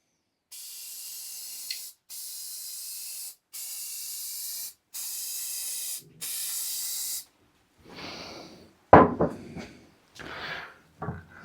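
Spray finish being applied to a handmade wooden key hanger in five steady hissing bursts of about a second each, separated by short pauses, followed by softer handling clatter and thumps near the end.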